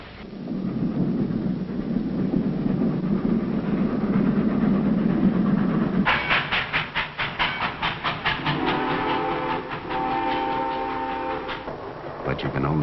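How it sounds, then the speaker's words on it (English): A train rattles along the rails with a rhythmic clacking of wheels over joints, loud and close, following a stretch of low rumbling noise. "The one sure way to get someplace is on a train."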